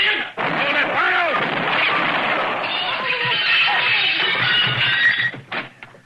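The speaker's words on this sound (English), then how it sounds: "He tried to shoot Killian in the back." A gunshot rings out in a western radio drama, set among loud shouting voices that continue across the scene with little pause.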